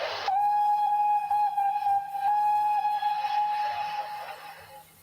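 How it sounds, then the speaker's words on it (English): A Somerset and Dorset 7F steam locomotive whistle sounds one long, loud, steady blast from a distance, holding for several seconds before fading out. "in the distance, an engine's whistle could be heard"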